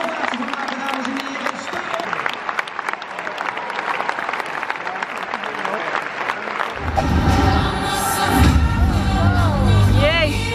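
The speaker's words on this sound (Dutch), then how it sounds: "Laten we een staande ovatie maken" Applause from an audience for a gymnastics team, hands clapping steadily for several seconds, then swelling into a louder, fuller roar with cheers and whoops as people rise for a standing ovation, with music or announcements layered beneath.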